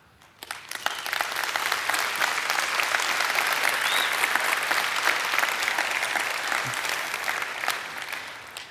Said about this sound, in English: All these people clapping